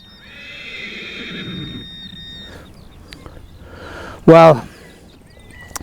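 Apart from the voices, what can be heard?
horse neighing and moving nearby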